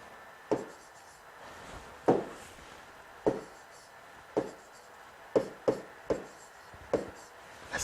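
Chalk or marker taps and strokes on a board during a maths lesson, about ten separate sharp knocks and short scrapes spaced irregularly across a quiet room.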